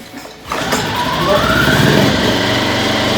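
A Firman 2000 portable generator, Costco model W01682, with eco mode off, is quiet for a moment and then catches and starts. Its small engine settles into a steady, loud, buzzing run close by.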